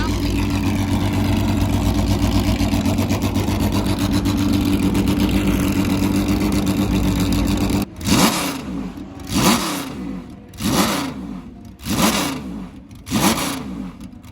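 A Ferrari Berlinetta Boxer LM flat-12 idles loudly and steadily, then barks through five sharp, evenly spaced throttle blips, each rising and falling quickly, close by with no talk over it.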